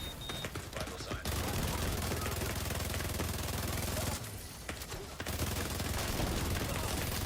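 Gunfire in a shooter video game: sustained, dense bursts of rapid shots fill most of the stretch, loud and close, with one short lull partway through.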